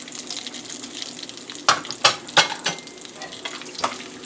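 Coriander and two whole dried chillies with cumin sizzling in hot oil in a pan, a steady close fry hiss broken by a few sharp stirring scrapes and clicks of the spoon, no talking.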